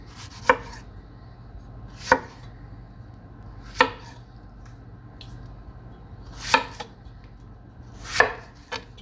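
A knife roughly quarters tomatoes on a cutting board, five sharp, close chopping thuds spaced a second or two apart over a quiet background.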